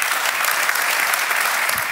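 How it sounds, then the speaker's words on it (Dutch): A studio audience breaks into warm, sustained applause for the guests of a talk show, a dense, even wall of clapping that carries on steadily for the whole stretch. "Geef ze een warm applaus."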